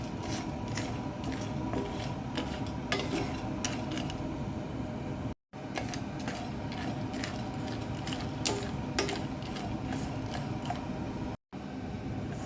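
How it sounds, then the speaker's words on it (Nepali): Flax seeds roast in a pan while a spatula turns them, producing a steady close rasp with light clicks and scraping ticks throughout, broken by two brief gaps. "अब फ्लेक्स सीड्सको पालो साथीहरू, बिस्तारै फर्काइ चलाउनु पर्यो"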